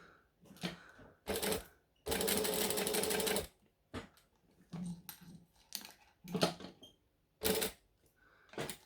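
Sewing machine back stitching a seam on fabric for a bangle dangle project, heard as repeated short bursts of rapid mechanical stitching with one long steady run, separated by brief pauses, close and fairly quiet.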